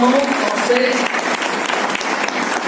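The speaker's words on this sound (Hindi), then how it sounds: "करताली स्वागत" Conference audience gives a warm welcoming round of applause as a national leader is invited onto the stage, dense continuous clapping with a brief voice near the start.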